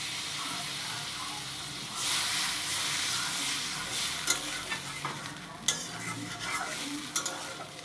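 Water poured into a frying curry sets off a loud hissing sizzle and steam, then spoon stirring scrapes and taps against the pot over a continuing fry, close and busy.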